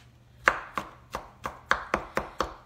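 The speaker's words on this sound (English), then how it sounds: "you really don't need to be precise about your chopping" Knife chopping vegetables for a butternut squash chili on a cutting board: eight sharp, evenly spaced chops close up, alone with no talk.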